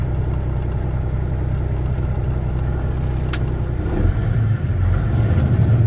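A 2019 Kenworth T800 heavy-spec daycab truck engine, warmed up to operating temperature, runs close by with a steady diesel rumble that rises slightly in a rev near the end.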